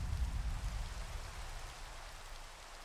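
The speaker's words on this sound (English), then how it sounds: "I'm just going to have to wait for it to stop raining." Steady rainfall in Minecraft, a soft, even hiss of falling rain with a low patter, fairly quiet and unbroken throughout.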